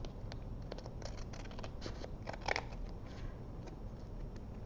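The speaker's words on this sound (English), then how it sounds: "I'll just take my scissors and I'll go across the bottom and trim it" Scissors trim across the bottom edge of a stamped fold card, a run of small crisp snips and paper rustles close up, with no voices.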